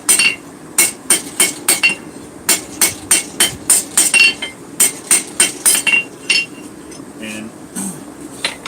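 Sharp metallic hammer strikes on hot metal ring out in a steady, rapid rhythm, close by, with a few short pauses between bursts.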